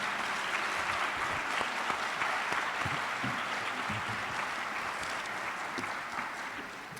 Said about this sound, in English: we have a nice round of applause for all of our recipients this evening